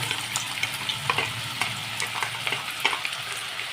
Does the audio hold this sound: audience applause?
no